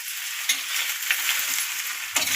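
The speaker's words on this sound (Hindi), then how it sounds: "और गाइस अब ये फ्राई होने जा रहे हैं हमारे।" Food fries and sizzles in a pan during tempering for a home-cooked Indian dish, a close, bright crackling hiss with a few stirring knocks and pops.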